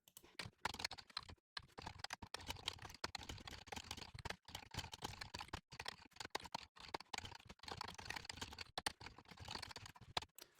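Rust code being typed on a computer keyboard: close, continuous rapid key clatter with uneven rhythm and brief pauses between bursts, heard alone without speech.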